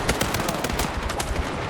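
Rapid gunfire in the Battlefield 6 video game campaign, a quick burst of sharp repeated shots in fast rhythm over under two seconds, fairly loud and close.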